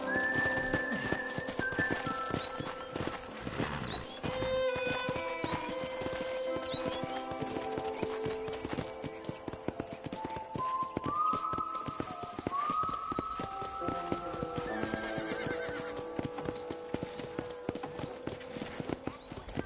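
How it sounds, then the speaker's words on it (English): Horse hooves clip-clopping in a steady rhythm while riding around a ranch in the video game Red Dead Redemption, with occasional whinnies over background game music, close and clear. "let's see if you can still ride a horse"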